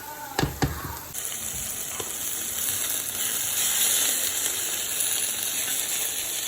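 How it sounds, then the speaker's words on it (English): Chopped habanero pepper frying while being stirred in a pot: a few clatters at first, then a steady, bright sizzling hiss that holds throughout, close and moderately loud. "So I'm gonna let this fry, and as it's frying, you wanna stir it."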